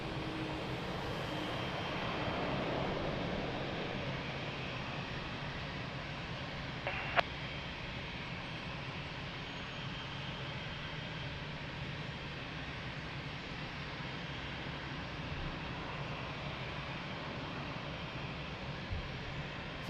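An airplane at Lisbon Airport sends a steady, distant engine roar across the whole stretch, broadband and even, with one brief sharp click partway through.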